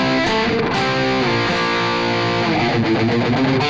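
Distorted electric guitar in drop D tuning playing a riff, giving a loud, thick, saturated sound with chugging chords and sustained notes throughout, close and without talk.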